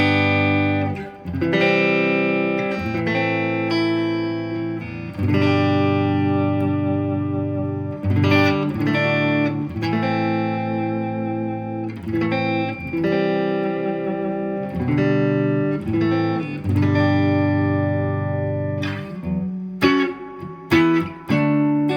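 A Fender Vintera II 70s Stratocaster plays a series of ringing, sustained chords on the neck pickup through a Deluxe Reverb amp, strummed loud and close with brief pauses between them.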